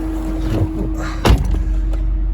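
An LS-swapped 2004 BMW 320i rumbles at a low, steady hum, with a single sharp thump partway through, like a door shutting, and no talking.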